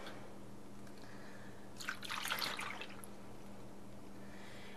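Pickled beets and their liquid are poured over peeled boiled eggs in a pot, a short splashing gush of liquid rising and fading after a quiet start.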